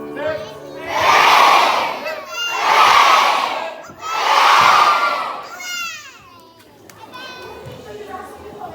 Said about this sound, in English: Let's cheerio cheer as the Cornet and his party leave the home.